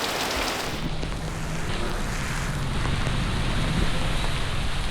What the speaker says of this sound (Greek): Έχουμε βάλει τα διάβροχά μας και έχουμε βγει στην βροχή